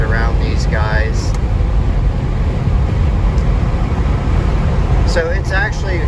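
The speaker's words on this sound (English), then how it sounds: "You can hear the wind noise from the sunroof." Steady wind rush from the sunroof of a 2018 BMW 540d xDrive diesel at highway speed, a constant low roar under the cabin, with someone talking at the start and end.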